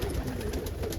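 Pigeons, including saddle homers, coo softly inside a loft, their low murmuring calls repeating in a quiet, close cluster over faint background noise.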